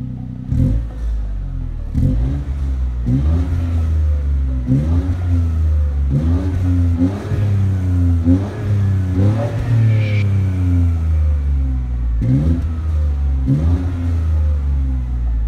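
A 2016 MINI Cooper three-cylinder engine revs repeatedly, each rise in pitch climbing and falling back in a steady series of throttle blips, loud and close.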